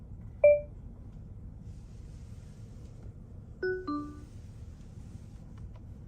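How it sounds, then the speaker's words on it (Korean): A 2017 Genesis G80 sedan's voice command system gives short electronic prompt tones: one clear beep, then a pair of rising chimes a few seconds later, over a quiet low cabin hum. "네, 삐 소리 후에 말씀해 주세요."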